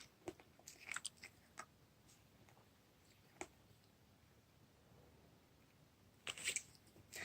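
Someone chewing hard candy up close, with sharp crunching bites in scattered bursts and quiet pauses between them.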